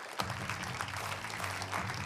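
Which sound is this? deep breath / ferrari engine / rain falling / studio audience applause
studio audience applause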